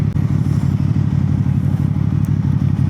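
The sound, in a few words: SRV motorcycle engine running while riding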